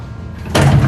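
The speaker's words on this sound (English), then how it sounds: "I pulled hard on the door." A heavy door yanked open hard during a prison escape, a sudden loud rushing burst after a low rumble, close and sustained to the end.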